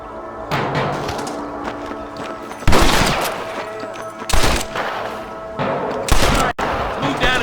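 Gunfire in Red Dead Redemption during a fight with rustlers at a camp near Armadillo: several loud, close gunshot blasts and bursts break out at irregular intervals over continuous background sound and shouting voices.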